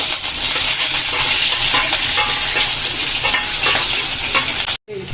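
Cumin, mustard seeds, green chillies, curry leaves and onion sizzle loudly in hot oil and are stirred in a pan, a close, continuous crackle broken by a brief cut near the end.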